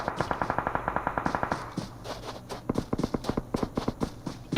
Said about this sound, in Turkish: Şu an drop'un yanında büyük bir çatışma var